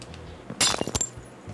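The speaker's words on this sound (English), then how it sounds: "Glass shattering." A single sharp burst of glass shattering in Minecraft, a bright crash with a few quick tinkling fragments trailing off within half a second, loud and close.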